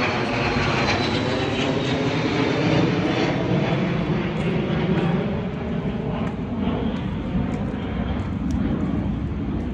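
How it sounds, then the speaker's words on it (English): Airplane engines drone overhead above a botanical garden, a loud, steady roar that holds for the whole stretch with no voices over it. "daming airplane pa na"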